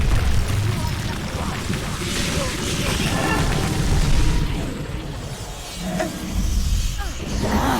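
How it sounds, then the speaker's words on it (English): A big explosion booms in the action RPG Kingdoms of Amalur: Reckoning, a loud broadband rumble spread over several seconds with bursts of crackling debris and game effects mixed in. "That's a big explosion."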